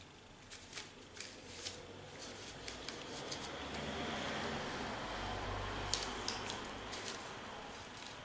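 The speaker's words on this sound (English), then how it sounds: "Then shuffle again." Playing cards being shuffled by hand, a run of quick riffling flicks and snaps close by, repeated in short bursts over a low background hum.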